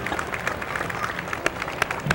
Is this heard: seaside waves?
no